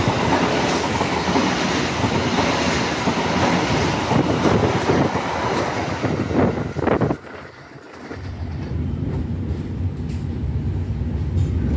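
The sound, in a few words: train passing on the crossing track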